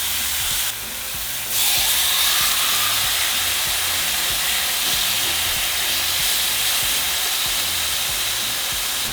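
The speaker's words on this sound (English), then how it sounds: "once the heat's up, we're going to place our steak" Carne asada steak sizzles in a hot pan with a loud, continuous frying hiss that jumps up shortly after the meat goes in, then holds steady close by.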